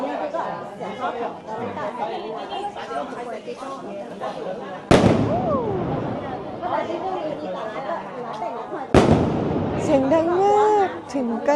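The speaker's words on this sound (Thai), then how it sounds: "เขากำลังจะจุดประทัดกัน" Firecrackers set off at a festival in Guangdong, two sharp loud bangs cutting through a crowd, each followed by crackling, with steady chatter and voices of people throughout.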